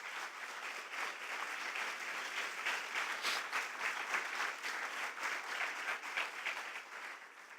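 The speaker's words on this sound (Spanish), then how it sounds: "Denle un aplauso al Rey." Sustained applause from a church congregation, a broad even roar of many hands clapping at moderate distance, easing slightly at the end.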